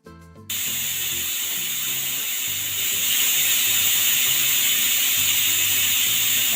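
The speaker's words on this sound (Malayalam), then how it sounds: "3 വിസിലാണ് എൻ്റെ കുക്കറിന് വേണ്ടത്." A pressure cooker cooking potatoes for bhaji curry vents steam in a loud, steady hiss that swells and holds at full strength for several seconds after a brief opening clatter.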